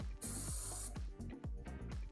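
A hissing spray rinses dirty nuts from a Yamaha BWS scooter for under a second, then stops, leaving tonal background sound.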